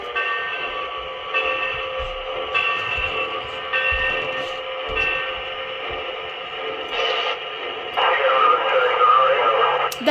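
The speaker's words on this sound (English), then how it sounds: "That is some radio chatter." Electronic radio chatter plays from a K-Line 2-8-2 toy train locomotive's sound system: crackly, radio-filtered voices over a steady hum, in bursts of varying loudness, with a brief static burst near the end.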